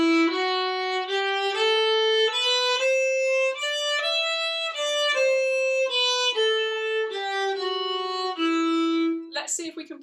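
A solo violin plays the E natural minor scale in a short-long rhythm, clear bowed notes stepping up and back down, close and bright, ending in a brief scrape.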